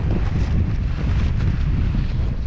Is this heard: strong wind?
yes